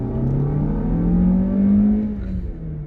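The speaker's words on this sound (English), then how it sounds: "The engine makes a lot of noise." A 2020 Lexus UX SUV engine revs up in sport mode with a rising, growling drone that swells loudly and then eases off slightly, heard from inside the vehicle.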